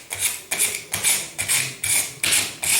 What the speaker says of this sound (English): So it is rubbed with sandpaper.